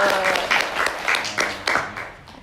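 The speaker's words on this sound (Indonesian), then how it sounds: "Tepuk tangan dulu." Audience applause at a museum reenactor podcast event at UNITRI Malang, a brief burst of clapping with a few sharper hand strikes, mixed with voices talking over it.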